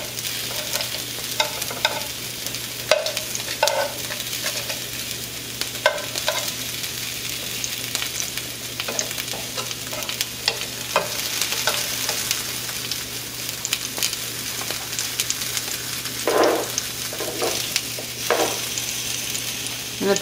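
Chiles and nopales sear in a hot pan, a steady bright sizzle running throughout, punctuated by repeated scraping stirs and occasional clanks of a spatula.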